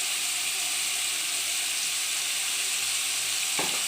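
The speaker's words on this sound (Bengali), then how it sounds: "আগে থেকে কেটে রাখা আলুর টুকরোগুলো তেলের মধ্যে দিয়ে দেবো।" Pieces of potato fry in hot oil with a steady, close sizzle and hiss that holds evenly throughout, ending in a brief clatter.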